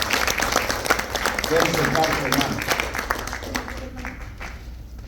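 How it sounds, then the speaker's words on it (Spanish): A church congregation at a Spanish-language service claps loudly in a sustained wash of applause that thins out toward the end, with someone speaking over it. "Dele un aplauso fuerte al Señor."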